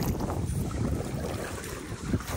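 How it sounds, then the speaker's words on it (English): Strong gusting wind by a creek during a passing storm roars steadily and buffets the microphone, a loud rushing noise with no pauses. "This wind over here is just ripping."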